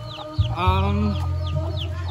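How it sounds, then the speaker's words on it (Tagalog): Chickens cluck and call around a farm property outdoors, several overlapping voices nearby with a continuous low hum underneath. "May mga manok pa dito sa labas."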